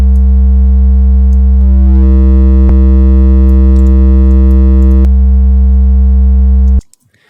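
A steady, loud, digitally clipped sine wave buzzes with harsh fuzzy distortion and rich stacked harmonics, holding for about seven seconds before stopping abruptly into near silence.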